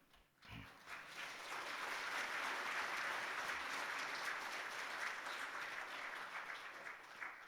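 Steady applause from a large church congregation, a dense wash of clapping that holds for several seconds before easing slightly.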